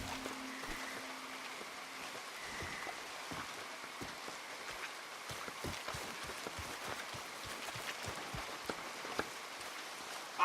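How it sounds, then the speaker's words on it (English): Steady rain in Red Dead Redemption 2, a soft hiss of drops on surfaces with scattered sharper taps and drips throughout, quiet and even, with a low faint hum early on. "Come on, it's raining."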